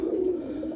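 A roller pigeon coos close by in a loft, one soft, throaty, rolling coo that runs loud and steady through the short moment.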